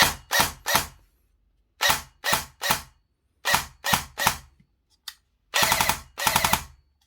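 An ARES Honey Badger AM-013 airsoft gun fires in loud, close bursts of three or four rapid shots separated by pauses, with a single short shot near the end.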